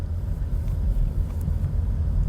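Car driving on the road after being bought at a dealer auction, a loud steady low engine and road rumble with faint tire noise, constant and close without speech.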